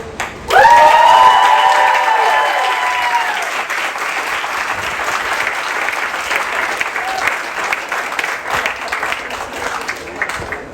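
A rally crowd at a Brown University strike-authorization event breaks into loud, sustained applause with cheers and whoops over the first few seconds, then settles into steady clapping that carries on to the end.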